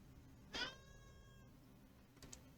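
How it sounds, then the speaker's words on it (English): An indoor house cat lets out a drawn-out meow followed by a second shorter, quieter one, both faint against steady room noise. "This cat's driving me up the wall."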